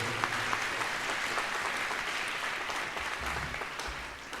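A church congregation claps for Women's Day during a Sunday Lent homily, with sustained, dense applause across the whole stretch at steady loudness and no talk over it.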